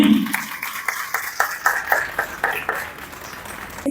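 Rhythmic hand clapping from a seminar audience, a string of sharp claps in quick succession that swell and then thin out, with no talking over it.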